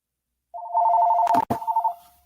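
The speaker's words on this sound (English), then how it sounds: "And the crazy thing about it, Salakia, his phone is ringing." A telephone rings with a warbling electronic trill that starts after a short silence, loud and near, briefly broken by a couple of knocks or clicks before resuming and fading.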